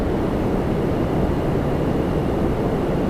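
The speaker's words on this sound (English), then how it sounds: "Next, we're going to get a Cessna citation, Air Sprint 574 from Hilton Head Island." Cessna Citation business jet, Air Sprint 574, at Toronto Pearson, a loud, steady, close engine roar without a break.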